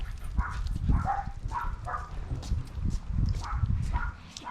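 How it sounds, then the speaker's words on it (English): A pet dog barks and yips in short repeated bursts at a house with a trampoline and clubhouse, fairly close, with scuffling and some background voices mixed in. "Oh, and that's our dog's Pickle."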